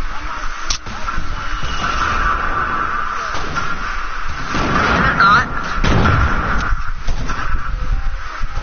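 Gunfight in a PS4 video game, with a loud muffled bang and dull booming shots over steady game noise, while players talk throughout.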